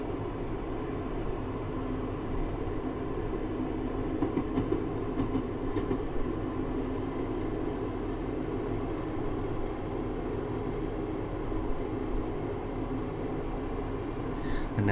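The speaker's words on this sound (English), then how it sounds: "I'm just going to shut off the power and allow the train to coast for a moment." A diesel train on the Nottingham to Sheffield Erewash Valley line in Train Simulator coasts with power off, giving a steady, even low rumble and rolling hum with faint track clatter for the whole stretch.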